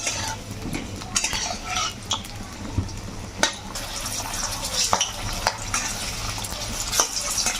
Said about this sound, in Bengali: এবার পেঁপেগুলো লাল লাল করে ভেজে নিই।